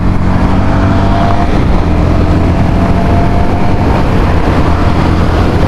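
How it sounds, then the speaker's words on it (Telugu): Yamaha XSR 155 motorcycle with its 155cc VVA engine, ridden hard in fourth gear, giving a loud, unbroken engine drone mixed with rushing wind noise throughout. "ఈ Yamaha proven engine VVA 155cc engine."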